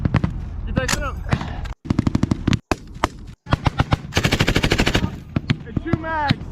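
Video game machine gun fire in a defense scenario rattles in loud, rapid bursts separated by short gaps, with someone talking in between.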